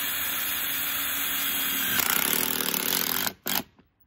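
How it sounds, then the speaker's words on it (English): A power drill drives screws into metal roofing on an off-grid cabin build, a loud steady whine that shifts pitch midway, then stops abruptly with a short final burst and a couple of faint knocks. "Start drilling."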